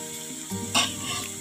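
Green chillies drop into hot oil for prawn do pyaza, bringing a brief burst of spitting sizzle over a low, steady background hiss.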